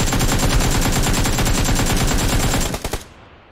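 Sustained automatic AKM fire in PUBG Lite, a loud, rapid, evenly spaced stream of shots that runs for about three seconds, then breaks into a few final bursts and cuts off.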